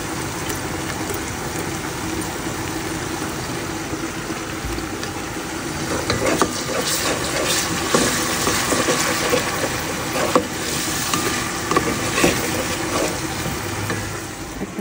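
Onion frying with ginger garlic paste in a pan for pulao, a steady loud sizzle with continuous crackle that grows slightly busier partway through.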